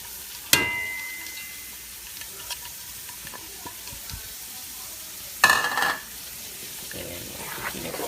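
Onions, diced red peppers and carrots stir-fried in a pan for Nigerian-style coconut chicken fried rice: a soft steady sizzle broken by two loud, sharp bursts as vegetables hit the hot oil, each fading back into gentle frying.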